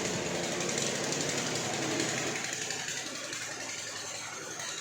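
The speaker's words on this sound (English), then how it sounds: "And we've just started up the drill." A borehole drill rig on a construction site runs steadily with a loud, dense hammering rattle, continuous and close throughout, easing slightly in level toward the end.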